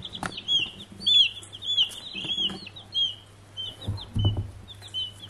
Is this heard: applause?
no